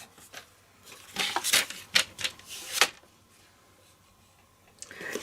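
A piece of card is cut down to 10 by 4 inches for a concertina card topper, with a few close, crisp slicing and scraping strokes over about two seconds, then quiet.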